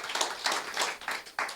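Audience clapping at an award ceremony and fundraising night, heard as a few loose, uneven bursts of hands that swell and fade, fairly soft and with no voices on top.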